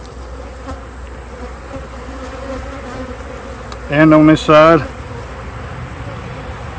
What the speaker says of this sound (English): Bees are about to merge right there.